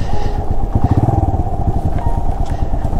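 A motorcycle passing beside a river on a mountain road, its engine putting out a loud, close, throbbing pulse with clattering that swells and stays strong across the whole stretch.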